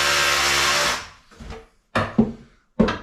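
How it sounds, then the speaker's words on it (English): A power drill whirs steadily for about a second, then winds down, followed by a few short, sharp bursts of drilling with pauses between, while renovating a bedroom in a 250-year-old Irish homestead. "If I can balance with one hand and drill with the other."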